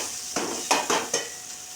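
Potatoes and sugar being stirred in a kadai as the sugar melts, for ghugni, giving four scraping strokes over a steady sizzle, close and moderately loud.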